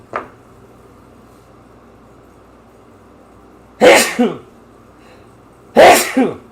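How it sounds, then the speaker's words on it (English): Two loud sneezes by a man, a couple of seconds apart, each a sharp burst with a quick follow-through, in a quiet room. "I got to sneeze"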